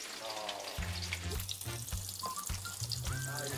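Food frying in shallow oil in a Korean kitchen during avocado soybean paste stew cooking, a steady crackling sizzle with people talking over it.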